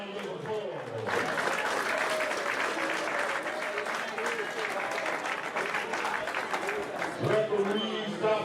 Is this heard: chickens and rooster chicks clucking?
no